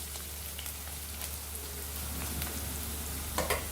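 Onion and green chilies frying in a pan of oil for a chana and toor dal tadka, a steady close sizzle with soft crackles and a few louder pops near the end, no talking.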